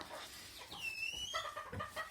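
Ko Shamo rooster giving a short clucking call with a high squawk among other fowl, close by and moderately loud, lasting about two seconds.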